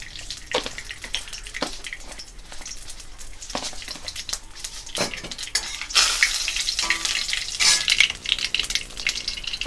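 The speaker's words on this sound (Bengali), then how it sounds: "এবার তেলের মধ্যে দিয়ে দেব সামান্য পরিমাণে কারি পাতা আর দিয়ে দিচ্ছি সামান্য পরিমাণে কালো সর্ষে।" Curry leaves and black mustard seeds hit hot oil for jhal suji, crackling and spitting in a steady close sizzle with sharp pops throughout that intensifies toward the end, no voices.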